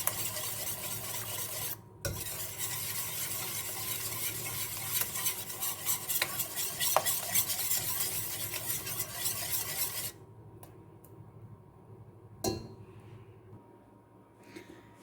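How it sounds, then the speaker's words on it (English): An egg is whisked into banana bread batter in a bowl: a steady, close, rasping scrape of the whisk continues for about eight seconds, then drops to a quiet hush broken by a couple of light clicks. "just whisk this last egg in"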